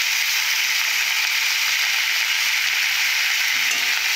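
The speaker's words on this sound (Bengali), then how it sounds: "লবণটা দেওয়ার পর কিছুক্ষণ কষে নেব" Potatoes sautéing with salt in a pan give a steady, dense sizzle that hisses evenly for the whole stretch, close and fairly loud, with no talking.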